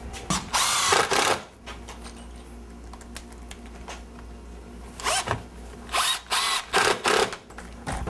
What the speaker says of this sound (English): I'm just gonna set it in place and run my screws.